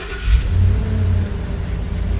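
A 2016 Ford F250 pickup truck's engine turning over and catching, then settling into a steady, loud, close idle rumble with no talking.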